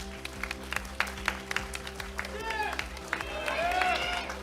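Scattered applause rises from the audience at a political party concert, with clapping gradually building beneath a steady hum, crowd murmur and a few squeaky tones.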